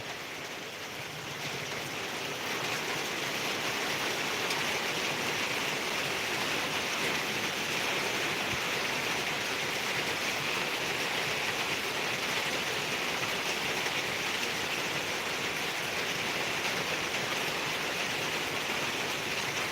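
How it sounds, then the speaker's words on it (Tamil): Heavy rain pours down continuously at night, a broad, even hiss that swells slightly after the first two seconds and stays steady throughout. "நல்லா மழை பெஞ்சிட்ருக்கு"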